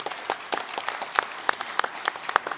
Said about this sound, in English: maybe you can help join me in a round of applause for our panelists